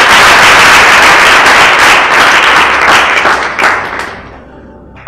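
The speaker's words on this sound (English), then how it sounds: "Please clap your hands." An audience at a youth empowerment program event claps loudly in a dense, sustained burst that gradually thins and fades toward the end.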